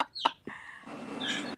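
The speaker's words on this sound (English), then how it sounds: "Sorry about our chicks in the background." Backyard chickens clucking in brief bursts, including a hen, fairly close and moderately loud, with a short sharp call near the start and a busier stretch of clucking toward the end.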